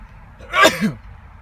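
One sharp allergy sneeze, close and fairly loud, bursts out over a quiet background and is gone within half a second.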